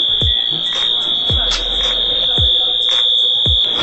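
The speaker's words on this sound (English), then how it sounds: "it might have set off some kind of alarm" A high, steady electronic alarm tone, like a fire or smoke alarm, sounds continuously and loudly indoors with a few low thumps underneath, set off during a flight trip to Illinois.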